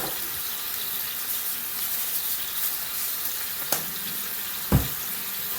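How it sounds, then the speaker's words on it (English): Mushrooms sautéing in a pan after a dash of salt and pepper, giving a steady soft sizzle with a couple of brief clinks near the end and no talking. "the instructions say to saute these until they get slightly crispy"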